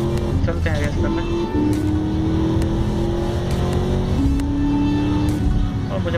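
A racing car engine in GTA Vice City during a Vice Street Racer street race hums steadily with shifting pitch, rising and dropping between gears beneath game music and ambience.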